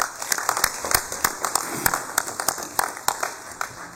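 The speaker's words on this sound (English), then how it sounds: "Let's give them a round of applause." Members in a legislative chamber clap for introduced guests, scattered distinct claps of moderate loudness in an irregular rhythm, with a steady tone running underneath.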